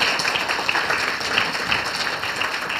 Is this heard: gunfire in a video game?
no